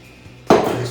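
Light rum poured into a cocktail shaker filled with ice while mixing a Hurricane: after a quiet start, a sudden close, loud splash sets in halfway through and continues as a steady, slightly fading rush with no talking.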